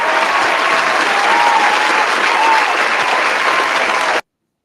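Steady crowd applause played as a sound effect, dense clapping at constant loudness for about four seconds before cutting off abruptly into silence.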